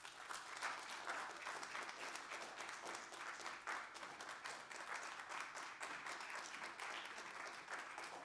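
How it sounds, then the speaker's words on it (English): A crowd applauds to welcome a speaker at a lecture event, dense continuous clapping heard from a distance, fairly faint and steady throughout. "Let's give a warm round of applause to Dr. Phillips."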